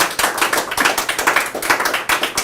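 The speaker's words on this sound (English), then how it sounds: "Another round of applause for Mr. Daniel Holman" A small studio audience claps for a guest on a TV show, a close, loud patter of individual hand claps with a slightly uneven rhythm and no voices.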